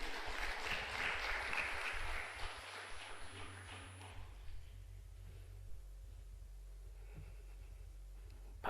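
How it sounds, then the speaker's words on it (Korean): A congregation claps together at a Korean Pentecostal revival service at a fasting prayer retreat. The applause is lively for about four seconds, then dies away into a quiet, humming hall. "박수."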